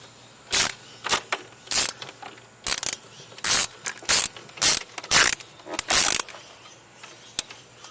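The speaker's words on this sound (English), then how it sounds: "So we're going to break that pinch bolt loose." A ratchet wrench working a pinch bolt loose on a Subaru Baja, with a series of about a dozen loud, close ratcheting bursts in an uneven rhythm and short pauses between strokes.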